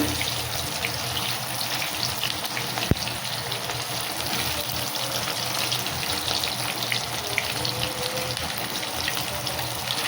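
Potatoes fry in hot oil in a pan, a continuous even sizzle and hiss at close range with a single brief knock partway through.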